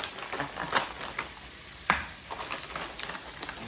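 Eight shrimp sauté in a pan for a kimchi spinach shrimp dish, giving a steady close sizzle broken by sharp clicks and scrapes of stirring.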